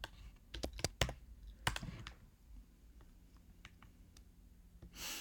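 Computer keyboard typing as a number is entered into a C++ program: close, crisp key clicks in irregular bursts with quiet gaps between, ending in a longer noisy press.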